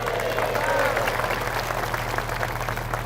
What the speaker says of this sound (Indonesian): Kalian enak aja tepuk tangan